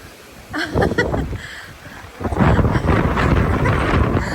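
Strong wind at Lindos buffets the microphone in loud, rough gusts, dipping briefly before roaring back even harder.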